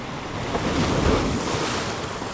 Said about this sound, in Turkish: Büyük dalgalar gelince orası dolup boşalıyor.